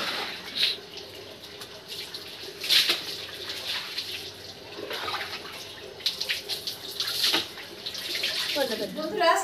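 Water splashing and running while hair is washed with a homemade hair rinse in a bathroom, irregular close splashes and pours over about ten seconds with no talk.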